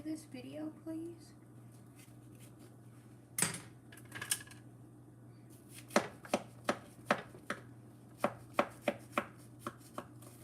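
A knife chops an onion on a cutting board, first a single sharp knock, then a steady run of crisp, evenly spaced chops, close and clear, with a voice speaking briefly at the start.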